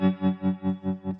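A Stone Deaf FX Tremotron analog tremolo pedal set to a sine wave pulses a sustained, slightly distorted guitar tone up and down in smooth, even swells, about five per second, loud and with no talking.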